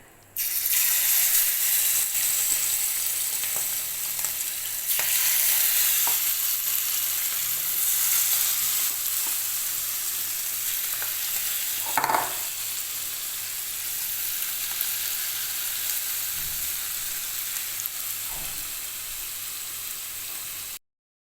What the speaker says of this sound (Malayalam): ചെമ്മീൻ പൊരിക്കാം.